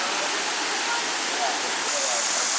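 Creek water rushes steadily at the bottom of a creek bed, a dense, even wash of flowing water that holds the same level from start to finish with no pauses.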